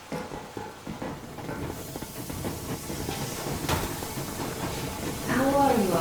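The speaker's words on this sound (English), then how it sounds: "Yermak, full steam ahead." A steam train gets under way in the video game Metro Exodus, a broad hiss of steam and rumbling motion that swells louder toward the end, with voices speaking over it.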